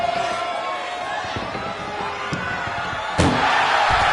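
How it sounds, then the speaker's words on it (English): A powerful collision during a women's combat event crashes out as one loud, sharp slam near the end, rising over a steady roar of crowd noise with scattered thumps before it. "Oh, what a powerhouse collision here."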